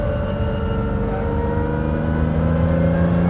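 A Lamborghini car engine, still being run in, idles and revs gently in a continuous, steady drone, close and fairly loud, with no voices.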